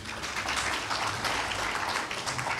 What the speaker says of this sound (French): je vous demande d'applaudir la BIMESA